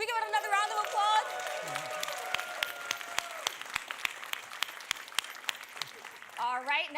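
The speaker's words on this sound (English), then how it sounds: "Can we give it another round of applause?" Scattered, fairly faint claps from an audience at an annual game awards ceremony in New York, with a voice talking at the start and again at the end.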